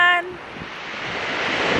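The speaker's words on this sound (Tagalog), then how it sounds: "Nandito kami ngayon sa tabing dagat." Ocean waves at a seashore where friends are fishing, heard as a steady, broad wash of surf that slowly grows louder, with a brief tone at the start.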